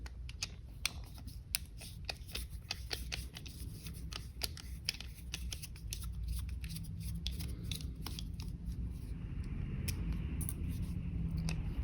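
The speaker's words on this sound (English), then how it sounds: "So now we're going to remove these two screws here using a" A T6 Torx bit unscrews two screws from a GSG-16 MP5 magazine, producing close, rapid clicking ticks over a low steady hum.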